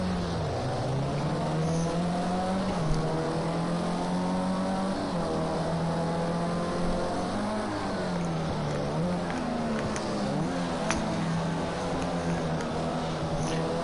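A Formula C race car engine in the racing game Project Cars 2 drones loudly and continuously, its pitch rising and dipping through gear changes and braking.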